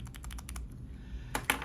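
Rapid clicky keystrokes on a keyboard fitted with Samduksa/Crown 202 switches, about half a dozen quick presses, a short pause, then two sharper clacks, close up and fairly quiet with no talking.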